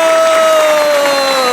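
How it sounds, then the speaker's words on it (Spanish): Applause from a church youth gathering crowd, a steady dense patter of clapping filling the whole short moment, with a sustained tonal hum running underneath. "¡Un fuerte aplauso!"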